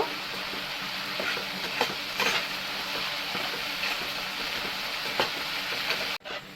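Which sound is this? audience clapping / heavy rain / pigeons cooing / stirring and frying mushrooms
stirring and frying mushrooms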